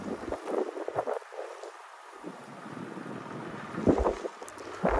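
Snow storm wind in Iceland gusts and roars in uneven surges, buffeting the microphone outdoors near a house terrace, loud and close with no voices.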